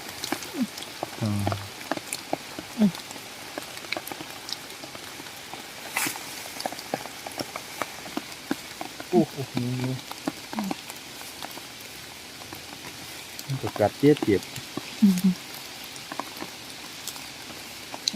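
Heavy rain pours down over ground where termite mushrooms are being gathered, a steady hiss of drops running throughout beneath a person talking at intervals.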